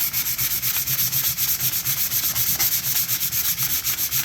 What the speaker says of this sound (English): just let the sandpaper work